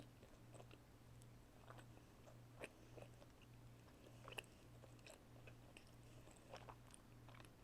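Soft, close chewing of corn bread, with quiet bites and moist mastication sounds repeating irregularly at low volume.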